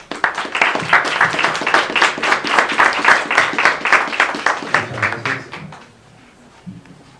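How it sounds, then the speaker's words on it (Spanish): Seminar audience welcomes a speaker with strong, loud applause, a dense run of clapping that thins and fades over the last couple of seconds. "Por favor, recibámoslo con un fuerte aplauso."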